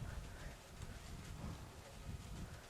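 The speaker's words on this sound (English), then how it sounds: "So big wind gust here right now." Strong gusts of wind sweep across an outdoor compound archery tournament final, making a steady, rough roar that buffets the microphone for the whole stretch.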